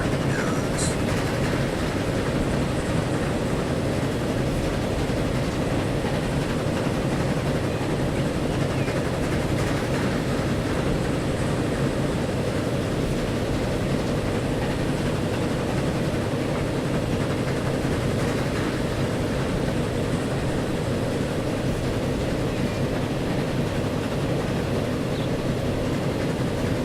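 Train in the video game Transport Fever running on rails, a steady, loud rolling rumble with faint clickety-clack that holds unbroken throughout, without any voices.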